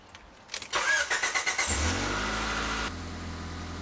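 Car engine cranks with a rapid series of starter pulses, catches and revs briefly, then drops to a steady idle, close and loud, during a low oil pressure light repair after topping up the oil.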